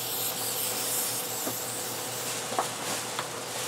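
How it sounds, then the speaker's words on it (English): A steady, close hiss of an aerosol can of spray glue being sprayed onto cardboard runs continuously, with a few faint taps and rustles breaking through. "I'm going to spray it onto the cardboard here."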